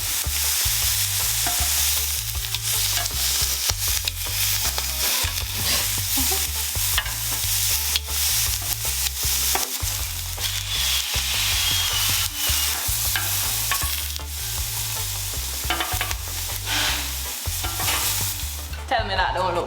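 Jerk-seasoned shrimp fry in a hot pan with a loud, steady sizzle that runs for the whole stretch, and no one speaks over it.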